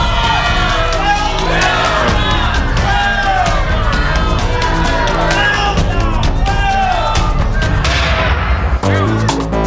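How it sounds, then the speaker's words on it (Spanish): A game-show studio audience shouts, whoops and cheers in a loud, dense, continuous roar of many voices, with overlapping yells rising and falling before a brief drop near the end. "ustedes pueden hacer el chiverío que quieran. Él decide nomás, pero todos pueden gritar lo que quieran"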